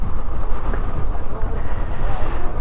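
Strong, steady wind roars and buffets the microphone at the Mullayanagiri hilltop, a dense continuous rush with gusty swells and no voices, loud and close throughout.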